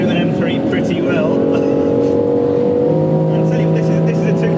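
BMW X3 M performance SUV engine pulling hard under acceleration, a loud steady drone with rising harmonics that holds throughout, close and dominant.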